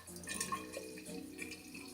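Liquid trickles and splashes into a jar for making water kefir in short, uneven bursts, soft and close, with no voices.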